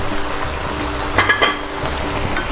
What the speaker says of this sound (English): now that this is sizzling, I'm gonna add our reserved chicken and some blanched pea pods.